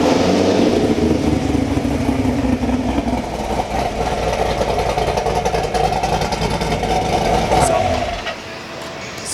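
A motorcycle engine with new American Racing System headers and catalytic converters revs steadily and loudly with its exhaust valves closed, a sustained mid-pitched drone that drops off near the end.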